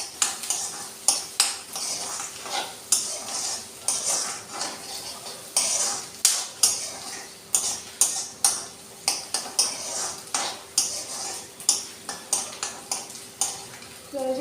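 Onions and cumin frying in a pan for a village-style capsicum (shimla mirch) curry, stirred in repeated rhythmic scraping and clinking strokes over a soft sizzle, close and fairly loud.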